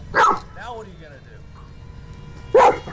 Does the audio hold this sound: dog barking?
yes